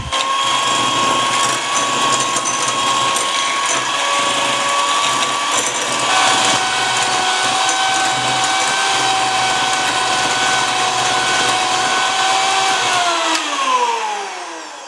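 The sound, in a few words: electric mixer beating vanilla extract and brown sugar at high speed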